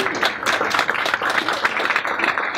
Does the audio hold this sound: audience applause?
yes